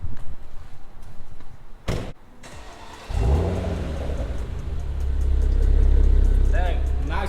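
A new BMW M3 engine cranks and fires up, settling into a deep, rumbling idle that swells louder toward the end, heard close by with a door thud and voices nearby.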